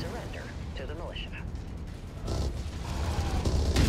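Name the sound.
artillery fire in the video game Mechwarrior 5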